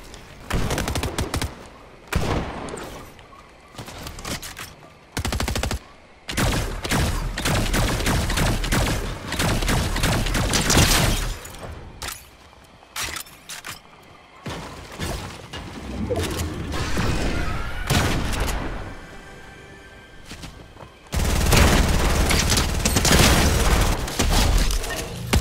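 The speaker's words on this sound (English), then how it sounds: "what this gun does is it works the same way as a pistol. But if you do not aim with it, it shoots very quickly" Rapid bursts of pistol-style gunfire in Fortnite, loud and close, firing in quick repeated volleys separated by short pauses, with mechanical clicks between.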